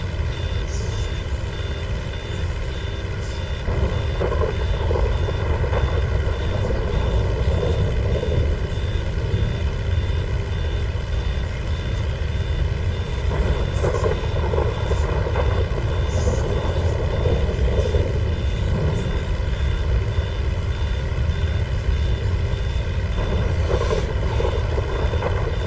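An airplane flies in Grand Theft Auto V during a storm, a continuous, steady engine drone with a propeller-like hum that runs loud and unbroken for the whole stretch, with no talking.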